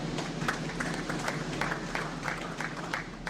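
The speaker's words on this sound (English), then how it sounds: "Please, let's clap for her." An audience at a Nigerian peace advocacy conference claps for the conference director, a dense, steady patter of many hands at moderate distance, with no talk over it.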